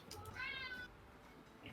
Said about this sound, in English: Cat's asking to be fed very early today